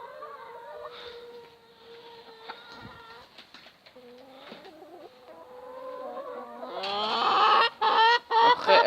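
Red hens on a poultry farm cluck and squawk close by, scattered calls at first, then growing louder and busier toward the end, with no talk.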